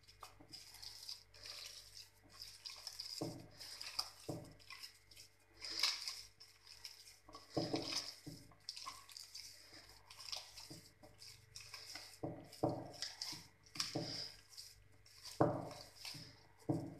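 Date dough being worked by hand in a bowl, faint, soft, squishy pressing and occasional light knocks against the bowl in an uneven, unhurried rhythm, no voices.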